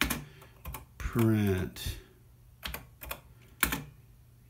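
A few distinct keystrokes clack on the keyboard of a vintage TI-99/4A home computer in TI BASIC, spaced irregularly around someone talking close by.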